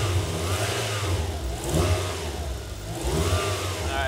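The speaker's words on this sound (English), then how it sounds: "Give it a little throttle." A heavily modified, worn Japanese tuner car engine idles, then revs up and down in a few throttle blips, close and loud, with no talking.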